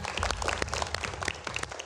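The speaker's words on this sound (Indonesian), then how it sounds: "Biar lebih semangat, tepuk tangan lagi dong." A small audience at an Islamic talk claps hands in a quick, uneven burst of distinct claps, moderately loud and fairly close.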